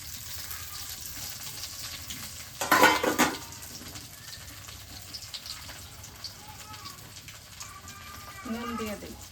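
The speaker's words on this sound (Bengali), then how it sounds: "মূলের শাক ভাজি করি" Radish greens frying in a pan, a soft sizzle with stirring and a loud burst of clattering utensils against the pot, close by, while a person talks intermittently.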